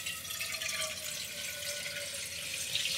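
Tap water runs steadily into a pot being filled to boil pasta in a home kitchen, a continuous close splashing rush with a faint rising tone as the pot fills.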